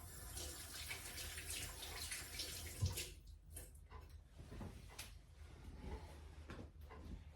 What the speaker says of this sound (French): Un petit tour au robinet.